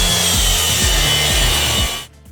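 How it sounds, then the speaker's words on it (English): Track saw ripping through a large sheet of plywood, a loud steady whining cut with a rhythmic low buzz, running close and alone for about two seconds before the blade drops away. "a piece of plywood that's bigger than about half a sheet is safer to cut with the track saw"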